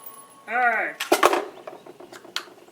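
Close, sharp gunshot cracks from an AR-15 rifle fired at a 50-yard range during sight-in, a tight burst of reports followed by echoing tails and one more shot, with a short vocal sound just before the shooting.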